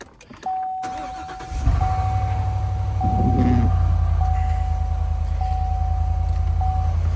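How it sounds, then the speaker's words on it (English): A car engine cranks and catches on a chilly fall day, then settles into a steady, rumbling idle as it warms up, with a thin repeating chime beeping throughout. "Fire the car up, let it warm up for a minute."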